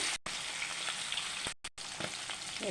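Fish fried lightly in hot oil in a Bengali home kitchen, a steady close sizzle and crackle broken by two brief cuts.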